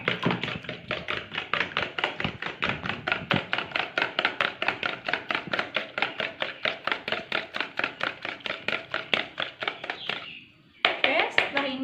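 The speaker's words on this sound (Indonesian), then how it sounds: "Gunakan 3 butir telur. Lalu kita kocok." Three eggs beaten by hand in a bowl for Indonesian rolled noodles, a fast, steady rhythmic tapping and clatter of the whisk against the bowl, close and continuous, with a brief pause near the end.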